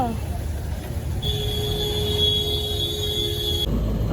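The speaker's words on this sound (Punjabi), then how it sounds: "ਆ ਦੇਖੋ ਜੀ ਟ੍ਰੇਨ ਟ੍ਰੇਨ ਟ੍ਰੇਨ" Steady low rumble of a passing train with a sustained high metallic wheel squeal, under occasional voices nearby.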